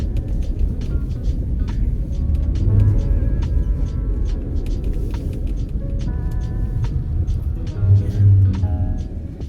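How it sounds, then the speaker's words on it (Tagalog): On a snowy winter street in Saskatoon, a snow removal truck rumbles steadily past, its deep engine drone loud and continuous with a faint whine rising at times. "mga truck na nag-aalis ng snow"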